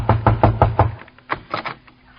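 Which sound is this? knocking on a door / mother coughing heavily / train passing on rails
knocking on a door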